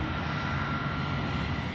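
A supersonic aircraft engine roars in a steady, unbroken broadband rush, loud and constant with no rise or fall across the short stretch, no voices over it.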